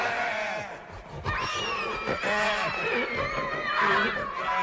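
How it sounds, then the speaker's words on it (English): A creepy cuckoo clock in a movie's spooky house emits a shrill, wavering squeal like a dying pig, rising and falling over several seconds amid other eerie sound. "a cuckoo clock with a bird that comes out of it is making a noise like a dying pig"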